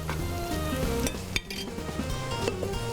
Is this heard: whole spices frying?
yes